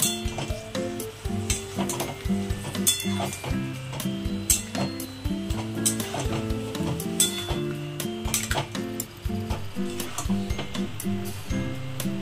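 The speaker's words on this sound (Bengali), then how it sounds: "এবার আমি আবার নাড়াবো।" Bengali country chicken curry with ground whole spices being stirred in a hot pan, a continuous sizzle with repeated scraping and knocking of the spoon against the pan, a low rhythmic mechanical hum running underneath.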